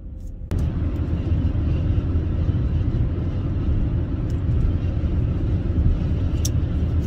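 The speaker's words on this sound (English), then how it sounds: "I'm pulling into Dunkin' right now to get my coffee" A car's interior as it pulls into a Dunkin' parking lot, a steady low road rumble and engine drone that starts abruptly with a thump and continues evenly, close and fairly loud.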